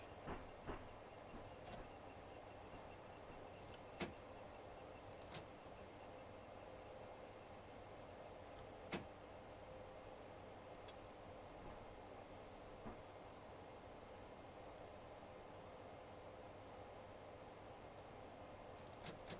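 A train from a train simulator video game, running on the London to Faversham high-speed line through Gravesend, gives a steady low rumble and hiss with occasional sharp rail clicks spaced several seconds apart.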